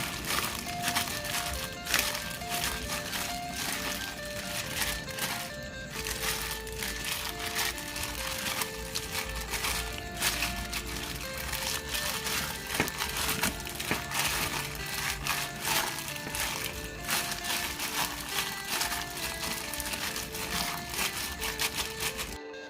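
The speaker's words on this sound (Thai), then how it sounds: "ขยำวุ้นเส้นกับหมูให้เข้ากันค่ะ" Minced pork and cut glass noodles squeezed and mixed together by hand, a steady close run of wet squishing, crinkling and crushing sounds that continues alone, without talk, throughout.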